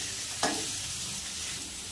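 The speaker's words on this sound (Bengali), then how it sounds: "আলু কিন্তু ভাজা চলছে।" Potato pieces fry with salt and turmeric in a pan, a bright, steady sizzle that holds throughout, with one sharp spit near the start and no talking over it.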